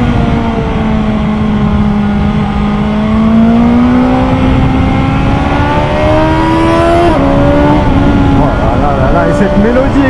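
A 2021 BMW S 1000 XR motorcycle engine revs and pulls steadily through the gears, a loud continuous whine rising in pitch, with someone talking over it throughout.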